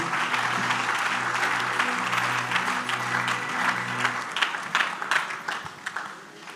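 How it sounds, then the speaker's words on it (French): A church congregation applauding loudly and continuously, dense clapping filling the room over a sustained musical tone that fades about two-thirds through, leaving the applause to trail off. "On acclame très fort pour Jésus."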